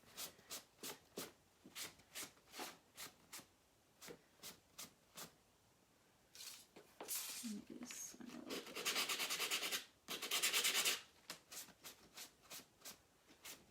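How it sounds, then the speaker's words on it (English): A cloth wipes dust off a chalk-decorated wooden bunny cut-out. Quick, rhythmic strokes are followed by several longer, harder rubbing passes, close and quiet. "Kind of want to wipe off the dust."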